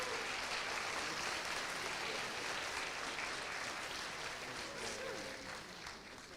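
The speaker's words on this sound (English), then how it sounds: "let's give them another warm round of applause" Warm round of applause for the University Chorale at a university midyear commencement ceremony, a broad continuous wash of many hands clapping in a large hall, steady throughout and easing slightly at the end.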